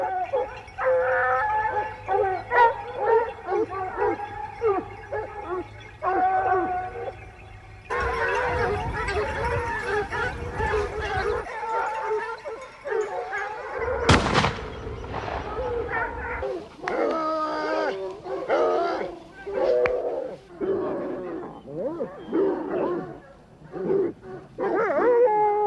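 Several hunting hounds bay and yelp during a wild boar hunt with running dogs, their loud, overlapping cries rising and falling over about twenty-five seconds, with a sharp burst midway.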